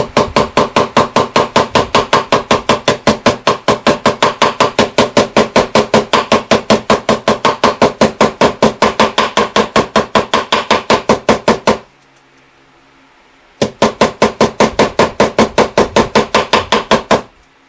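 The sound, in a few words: hammering frets into guitar fretboard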